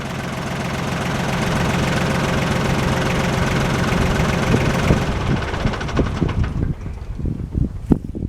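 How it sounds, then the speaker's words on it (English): A heavy tractor engine idles with a steady low chugging, then shuts down and sputters to a stop with a few knocks and clunks. "I'll turn the tractor off and talk for a minute"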